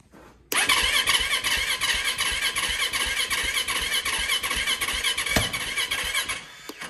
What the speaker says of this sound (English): Little backfire there